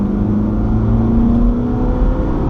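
A Mitsubishi Shogun with a 3.2 litre engine accelerating hard from inside the cabin, a loud, steady rising drone with no speech.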